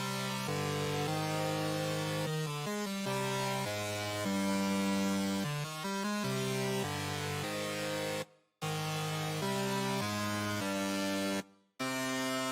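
Synth chord pattern from the Serum Guava preset with a few lead notes in a trap beat, playing loud rhythmic chord stabs with two brief sharp dropouts.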